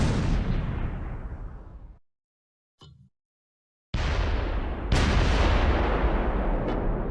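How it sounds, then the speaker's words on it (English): German Panzer tank cannon fire at a chateau in the World War II game Close Combat 4, Battle of the Bulge at Wiltz: two heavy booming blasts with long decaying rumbles, separated by near silence and a brief faint pop. "The Panzers are firing at the chateau."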